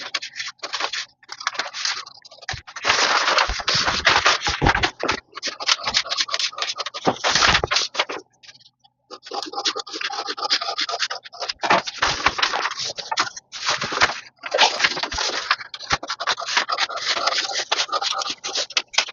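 Scissors cut through fabric pieces for the front of a straight pant, a close run of crisp scratching, rubbing snips in dense bursts with short pauses between, and no voices.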